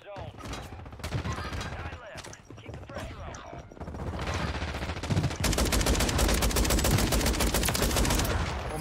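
Gunfire from a KV Broadside battle rifle in a shooter game, scattered shots early giving way to loud, rapid sustained firing, with voices talking over parts of it.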